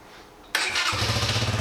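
A 2018 AJS Cadwell 125 cafe racer motorcycle engine fires up abruptly after a quiet lead-in, then settles into an even, close throbbing idle.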